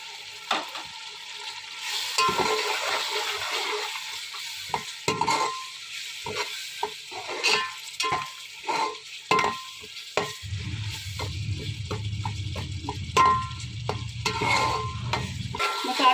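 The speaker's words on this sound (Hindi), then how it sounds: "मसाले को अच्छा सा हमने भून दिए हैं" Spices and achari pickle masala fry in hot oil for chana pulao, a steady sizzle broken by repeated scraping stirs of a spoon in the pan, close and alone with no voices.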